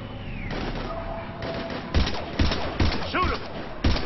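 Bursts of automatic gunfire and heavy weapon shots in the Mass Effect 3 single-player demo, several loud rapid volleys and thuds over a steady game background hum.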